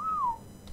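A single short whistle slides gently downward in pitch, clear and close, followed by quiet in the ARK Survival Evolved game.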